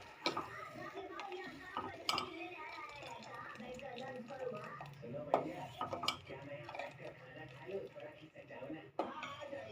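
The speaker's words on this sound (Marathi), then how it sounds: "असं जरा ढवळायचं करपेल म्हणून थोडंसं असं ढवळतच थांबायचं" A spoon stirs and scrapes through a boiling falooda mixture in a pot, kept moving so it won't scorch. Soft irregular clinks and scrapes run under continuous talking.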